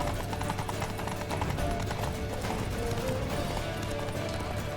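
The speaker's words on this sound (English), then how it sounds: "No me respondía el puñetero caballo." Horse hooves galloping in the video game The Witcher 3, a dense continuous rhythmic clatter under busy game sound effects and music, steady and loud throughout.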